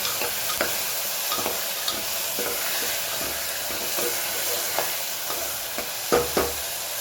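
Potatoes sizzle steadily in a hot pan while being stirred, with a continuous frying hiss broken by occasional scraping clicks of a spoon against the metal, up close and with no talking.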